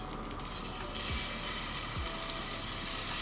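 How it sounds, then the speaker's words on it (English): Fish frying in a hot pan gives a steady, fairly loud hiss and sizzle throughout, with a couple of faint clinks and no talking. "So while the fish is frying"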